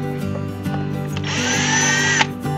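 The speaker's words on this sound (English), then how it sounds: "So let's pull the screws out" A power screwdriver backs screws out of a guitar pickguard, a close, steady motor whine lasting about a second amid low background hum.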